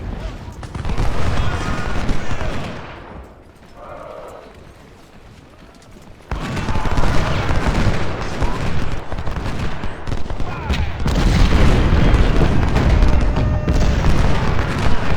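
Continuous rumble of massed musket fire and artillery booms from an Ultimate General: Civil War battle, loud and dense throughout, dipping briefly mid-clip before surging back with heavy overlapping volleys.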